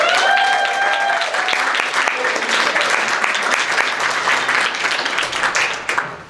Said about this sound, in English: I just wanted to get a round of applause for Anna Marie, who's been selling books for